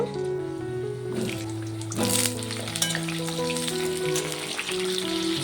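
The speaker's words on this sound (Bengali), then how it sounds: "তেলটি গরম হয়ে গেছে, আলুটিকে ভেজে নেব।" Potatoes frying in hot oil in a kadai give a continuous crackling sizzle with a few louder spatters, heard steadily under background music.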